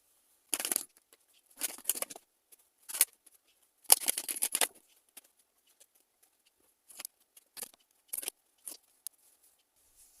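Someone shuffles tarot cards close by in short, crisp riffling bursts with quiet gaps between them, and no one speaks.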